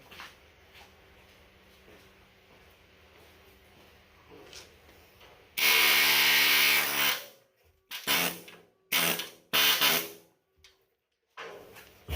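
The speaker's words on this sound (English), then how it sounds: "about 2 passes with the cutoff wheel" A cutoff wheel shrieks loudly cutting through frame rivets on a 1959 Willys CJ-5 in several short bursts, with quieter workshop noise beforehand and pauses between cuts.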